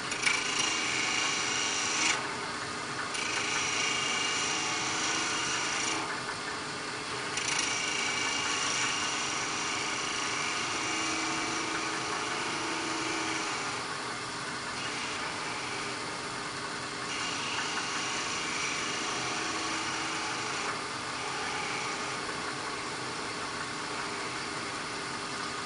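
Wood turning on a lathe running slowly at about 1500 rpm, a spindle gouge taking light cuts on a wooden knob: a steady rasping, scraping hiss over the hum of the motor, continuous for the whole stretch with slight shifts in texture, and no voices.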